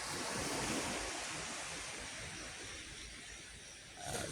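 Sea waves washing onto the shore at Long Beach in the morning, a continuous rolling surf wash with wind buffeting the microphone and a swell rising again at the end.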